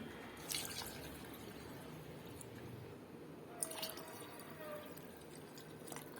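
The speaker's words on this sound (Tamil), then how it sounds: "அரிசி எடுத்த கிளாஸ்லேயே 1 கிளாஸ் அரிசிக்கு 2 கிளாஸ் தண்ணி வச்சுக்கிறேன்" Water is poured onto rice for chicken biryani in a pressure cooker, soft splashing and dripping trickles rising briefly in two bursts over a low room hum, quiet and close.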